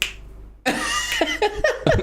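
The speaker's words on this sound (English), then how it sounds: "That was a pretty good snap." After a brief pause, a single sharp finger snap cracks out, followed by a few quick, fainter snaps and clicks close to the microphone.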